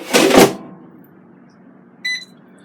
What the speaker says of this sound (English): I'm going to preheat my Cosori Smart Air Fryer